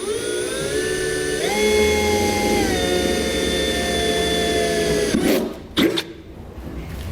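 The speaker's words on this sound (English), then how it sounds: "an 1/8 inch drill bit to drill right on through." A drill with a 1/8-inch bit whines steadily at high pitch as it bores through metal on a 2006 Chevy/GMC truck during a fifth wheel kit installation, its tone shifting slightly, then stops with a couple of clunks and rattles.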